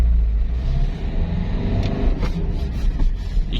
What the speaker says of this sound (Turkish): Birinci vites kalktım.